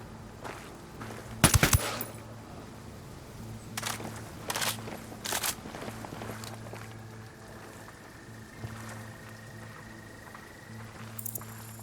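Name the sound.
gun turret firing in the video game Ghost Recon Wildlands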